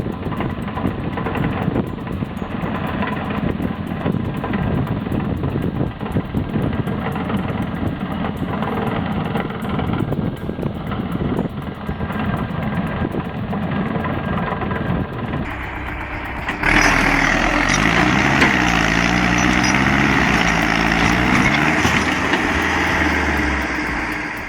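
A tractor engine runs steadily and loud at close range, its low rumble holding for about sixteen seconds before shifting to a harsher, higher-pitched roar with rising strain, as if the machine works hard stuck in mud or snow.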